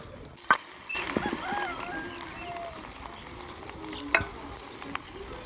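Egg toast frying in a single pan over a low flame, a soft steady sizzle with a few sharp utensil clicks and taps as it is turned, close and fairly quiet.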